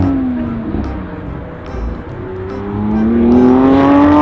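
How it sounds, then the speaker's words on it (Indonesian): Toy Lamborghini car making an engine revving sound, a loud electronic motor whine that dips in pitch, then climbs steadily higher as it revs up, heard alone. "Ada mobil Lamborghini."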